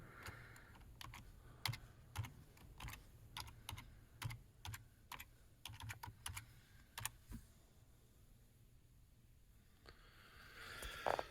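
Fingers tapping out a login on a computer keyboard, a steady run of crisp clicking keystrokes with short pauses, fairly close and alone, trailing off near the end.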